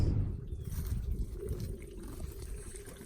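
Water pours and trickles steadily from a draining radiator on a 4x4 Chevrolet S10, a continuous low splashing gush with no voices.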